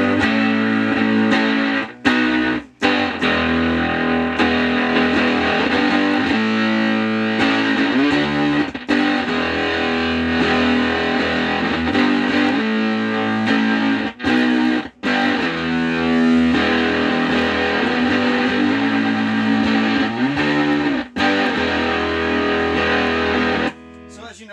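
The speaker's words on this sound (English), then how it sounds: "if you find that sweet spot in there, it can get really neat and a real gated sound. I feel like gated distortion." Electric guitar played through a DIY dirty boost stomp box pedal set for a gated distortion, a continuous loud distorted riff with brief choppy cut-outs where the signal gates off.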